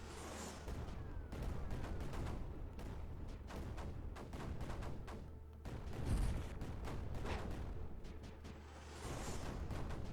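Rapid volleys of cannon and mortar fire in the video game Creeper World 4, dense repeated booms and cracks with a few heavier blasts, continuous for about ten seconds.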